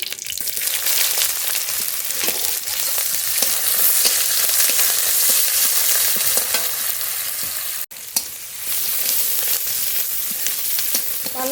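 Chopped onion fries in hot mustard oil tempered with bay leaf, two dried red chillies and five-spice, giving a loud, dense, continuous sizzle with a short break partway through.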